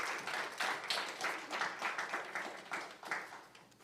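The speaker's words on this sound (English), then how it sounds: "Can we get another applause for them?" Applause from an audience at a cleantech pitch event, honoring judges: steady, moderately faint clapping sustained throughout, with slight swells and no voices on top.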